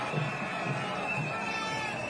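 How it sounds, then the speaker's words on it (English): Roadside crowds at a cycling race make a steady, distant wash of cheering and murmur, continuous and moderately loud throughout with no distinct breaks. "as the crowds get bigger at the side of the road"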